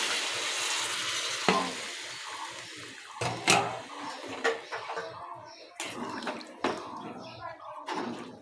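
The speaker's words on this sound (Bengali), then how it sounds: "আমি এখন জলটা দিয়ে দিচ্ছি।" Water poured into curry in a hot pan with shutki nearby, giving bursts of sizzling and splashing stirred in uneven spurts, fairly faint overall, with speech-like sounds mixed in.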